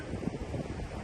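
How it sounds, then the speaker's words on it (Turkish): Steady roaring wind buffets the microphone by a stream, a continuous low rumble with gusty swells and no other clear sounds. "Aşırı derecede rüzgarlı"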